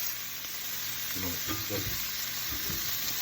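Meat and seasoning sear in a stew pot, a steady, dense sizzle and hiss that runs throughout, with a brief low murmur partway through.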